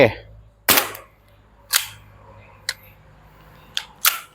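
Five sharp, loud cracks from a WA M1911A1 gas blowback airsoft pistol, fired at uneven intervals, each a short snap with the slide's clack and a quick decay, in a quiet room.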